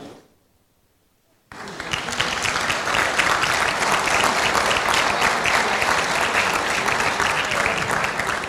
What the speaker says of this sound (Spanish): Es la primera persona recibida con un aplauso.